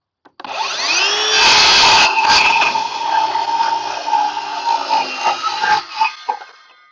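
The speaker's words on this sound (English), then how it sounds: "When the saw is running, they're cutting, the blade is spinning this way." Battery-powered cordless circular saw spinning up with no load during a blade-direction demo: a loud, close whine that rises fast, holds steady, then winds down with some rattling toward the end.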